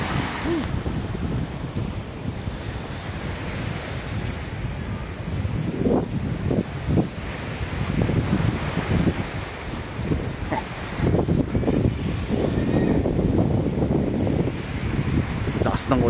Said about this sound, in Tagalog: Lakas ng alon, lakas ng hangin.